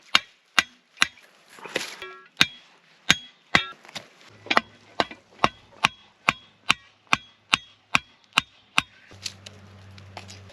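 Victorinox Soldier Swiss Army knife with a chisel grind carving wood, heard as a steady series of sharp, evenly spaced chopping strikes, close and distinct, about two per second with faint scraping between.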